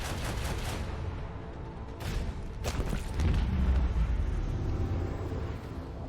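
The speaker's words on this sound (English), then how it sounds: "Another salvo!" Heavy ship weapons fire a salvo in the space combat of Warhammer 40k: Rogue Trader, a dense rumbling barrage with sharp blasts near two and three seconds over a constant low roar.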